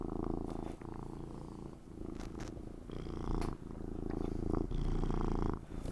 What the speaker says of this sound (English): I bet you can hear him purring at this point.